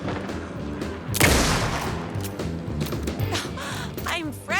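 Bursts of gunfire in Alan Wake 2, with a loud sharp blast followed by repeated cracking shots and mechanical clatter, close and punchy over game ambience.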